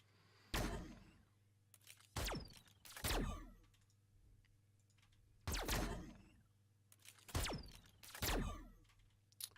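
Layered gunfire sound effects from the game Mass Effect, played as isolated sharp reports: six loud, close shots with decaying tails, spaced irregularly against a quiet background hum.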